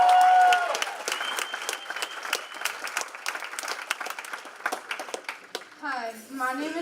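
Audience applause at an annual gala: crisp individual claps from a moderate crowd, sustained and slightly uneven, tapering near the end as a voice and tonal sounds emerge.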